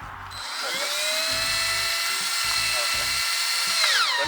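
A cordless power drill drives into wood while building garden raised beds, a sustained high motor whine that holds steady for about three seconds and then winds down, with low background noise underneath.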